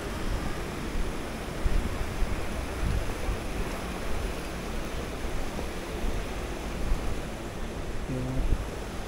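A steady broadband rush of flowing water from the Pulunan River in Cavite, Philippines, swollen in the rainy season, fills the whole stretch, constant and fairly loud with no voices.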